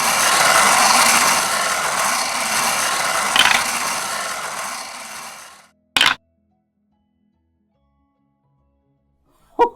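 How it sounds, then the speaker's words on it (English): A bingo prize wheel spins with a loud, steady whirring rattle for about six seconds, then stops abruptly; a couple of brief clicks follow in near silence. "let's go ahead and spin the bingo wheel and see what it"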